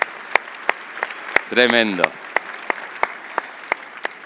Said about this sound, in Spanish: un aplauso para la gente que está organizando esto